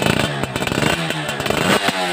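A Yamaha F1ZR two-stroke motorcycle from the 1990s runs close by, its engine revving and blipping in uneven bursts, loud and steady throughout.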